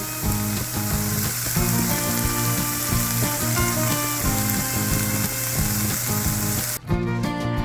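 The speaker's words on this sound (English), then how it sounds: "Hear that sizzle?" Garlic and onions sizzle and crackle steadily in a hot pan, a bright continuous frying hiss with a brief stir near the end.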